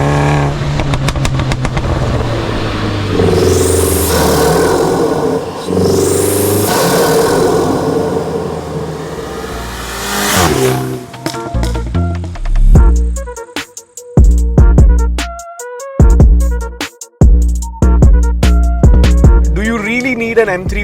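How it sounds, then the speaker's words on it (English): A stage 2 tuned BMW G20 330i, 300 hp, revving hard up close, rising sweeps followed by a run of sharp, choppy throttle blips with crackling pops between bursts. "this car actually sounds pretty crazy"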